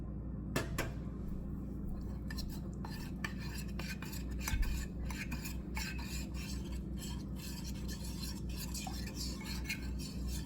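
A spoon stirs cornflour and water into a thin batter in a bowl, with repeated scraping and light clinks against the sides at an irregular pace. The level stays quiet, with a faint background hum.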